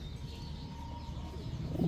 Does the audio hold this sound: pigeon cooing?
yes